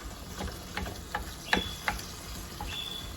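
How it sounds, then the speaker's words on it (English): Turkey chorizo sausage frying in a skillet, a soft, quiet sizzle with occasional light ticks and utensil taps scattered through. "we're going to add our turkey chorizo sausage to the skillet"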